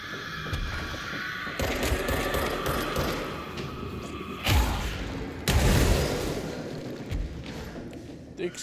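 Explosions and gunfire in the video game Control, a continuous din of dull thuds and booms with several heavier blasts standing out in a chaotic mix.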